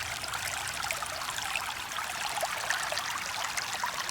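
Muddy Wahweap Creek flows past, a soft continuous rushing and trickling of water that stays even and fairly quiet throughout, with no voices.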